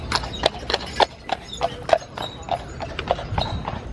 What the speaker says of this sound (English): Just a horse going around on Disney property.